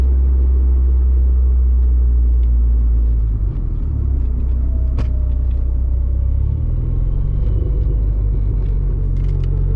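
Dodge SRT4 with a Werks Stage 3R transmission, its engine rumbling loud and close while downshifting through the gears, with a sharp click and shifts in the drone as the revs change.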